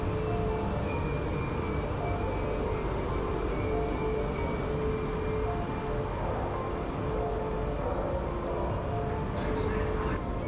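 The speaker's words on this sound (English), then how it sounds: "I'm about to hop back on this train again to go back to Union Station." Interior of a commuter train heading to Union Station in Los Angeles, a constant loud rumble and rolling rail noise filling the whole stretch without letup.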